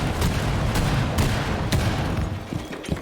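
A string of sharp blasts from a Fuze cluster charge in Rainbow Six Siege cracks out over a rumbling din, several separate close detonations spaced unevenly.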